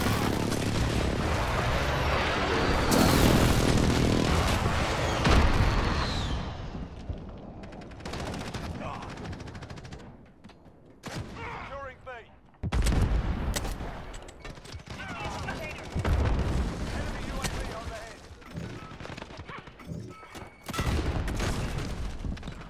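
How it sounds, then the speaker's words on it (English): A friendly precision airstrike pounding targets in a video game, heavy booming blasts mixed with rattling bursts of gunfire, coming in loud waves separated by brief quieter gaps. "Be advised, friendly precision airstrike inbound."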